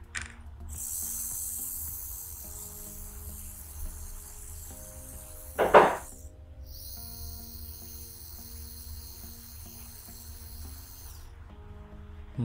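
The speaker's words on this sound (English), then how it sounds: "you can see this time motor is moving" A servo motor spins in DC motor mode under Raspberry Pi serial control, giving a steady faint mechanical whir with a single sharp click midway.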